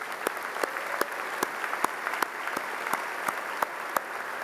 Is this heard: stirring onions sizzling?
no